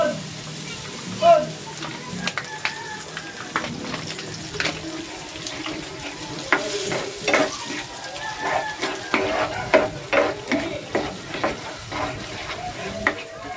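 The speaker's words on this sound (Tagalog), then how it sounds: "Ilalagay ko na dito itong red pesto sauce." Red pesto sauce stirred into a frying pan for chicken pasta, close scraping and clinking of a utensil over a soft sizzle, repeated stirring strokes with brief quiet speech now and then.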